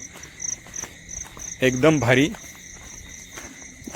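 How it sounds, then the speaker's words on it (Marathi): Crickets trill steadily at night outside a farmhouse, a thin continuous chirping that runs throughout, with someone briefly speaking over it in the middle. "रातकिड्यांची आवाज येतात"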